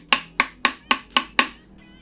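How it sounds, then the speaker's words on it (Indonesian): A hammer strikes the plastic side panel of a Kisonli S-5 computer speaker six times in an even rhythm, each hit a sharp, loud, hollow knock with a short ring, then silence. "kita tes build quality menggunakan palu ya. Kita tokok bagian samping."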